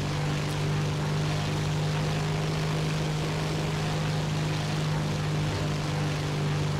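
Twin-engine Tupolev ANT-40/SB 2M-series bomber in War Thunder, a steady, loud, close propeller-engine drone with a strong low hum, continuous throughout with no talk.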